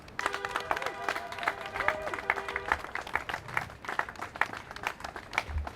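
A crowd at an anti-war rally applauds and cheers outdoors, a scattered, moderately distant clapping that carries on under a sustained tone and some raised voices throughout.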